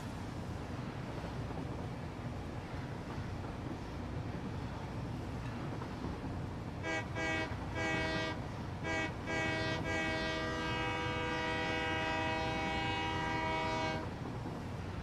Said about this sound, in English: You can actually honk the horn, left mouse button.